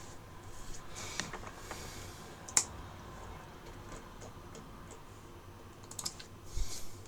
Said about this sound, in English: Oh, he's now typing again.